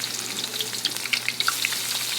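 Onions dropped into hot oil in a wok-style kadai for a chicken curry, giving a steady bright sizzle with small crackling pops throughout, close and moderately loud, no voices.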